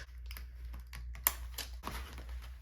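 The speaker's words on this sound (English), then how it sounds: "And I just simply typed out works in progress." Sparse keystrokes on a computer keyboard in a quiet craft room, a few soft taps and one sharper click, close by and alone over a low background hum.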